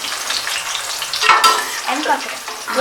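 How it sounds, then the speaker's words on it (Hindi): Bitter gourd (karela) fries in a pan of hot oil for a Punjabi karela gosht dish, giving a close, continuous sizzle with a few sharper crackles and stirring scrapes, and no talking. "करेले जो है वो फ्राई इतने करने हमने, ये देखिए इतना फ्राई करने।"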